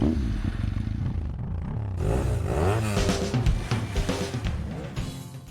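A motorcycle engine idles low, then the throttle is blipped and it revs up and down several times, loud and close, with rattly mechanical clatter.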